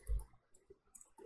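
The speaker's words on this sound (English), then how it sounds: "let's hit enter" A computer keyboard's enter key is pressed once, giving a soft muffled thump followed by a few faint clicks in a quiet room.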